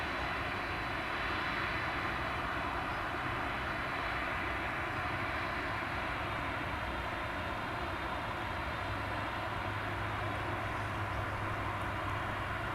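A Boeing 767 at Dallas Fort Worth airport, its engines producing a steady, broad jet roar that holds constant from a moderate distance with no voices.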